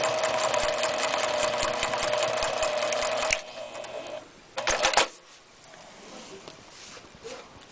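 A sewing machine quilts with a ruler foot, stitching in a fast, rattling run up close, then stopping, followed by a brief second burst of stitching and quieter handling noises.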